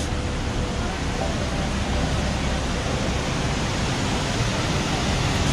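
Ninai Waterfall in Shoolpaneshwar Wildlife Sanctuary near Dediapada, Rajpipla, roars continuously as a dense, steady wash of rushing water, loud and close, with no pauses.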